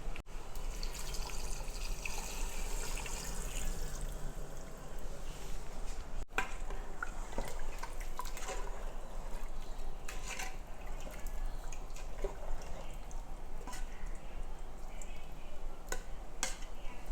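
Coconut milk mixed with water pouring into a pressure cooker for chicken biryani: a steady, faint liquid trickle and splash that runs unbroken, alone and close, with no talking.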